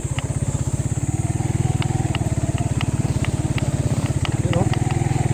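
Motorcycle engine running close by with a steady pulsing putter and light clatter, a voice speaking over it now and then.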